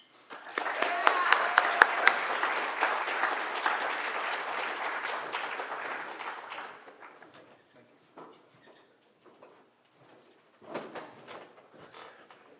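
Audience applause for lecturer Dr. Thompson at an evening lecture, a dense burst of clapping that swells quickly, holds for several seconds, then thins to a few scattered claps before a voice begins speaking.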